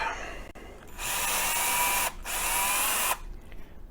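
A power drill bores into a Micro-Trains model train car during a coupler swap, with two sustained bursts of steady whirring separated by a brief pause, close and loud with no talking.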